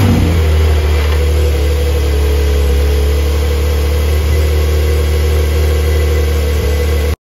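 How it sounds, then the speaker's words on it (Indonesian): A Porsche 911 engine cold-starts early in the morning and idles with a loud, rich, steady rumble. It roars briefly at the start, then settles into an even burble up close, with no talking. "Sekarang kita pengen start si 911, tapi sekalian aja denger suaranya karena ini cold start."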